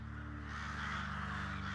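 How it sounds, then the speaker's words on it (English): Crows caw as they fly overhead, harsh calls spread across a steady background drone and hum, heard with no talking. "some crows noisily fly out overhead"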